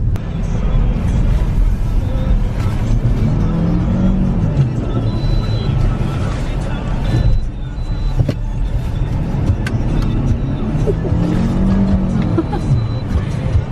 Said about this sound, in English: we're in Charlie's car, which is a 2018 Yep. Toyota RAV4, all-wheel drive, and I'm gonna teach her how to drive the drift in this thing as well.